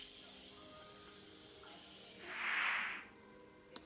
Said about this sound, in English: I'm gonna use the Morphe setting spray.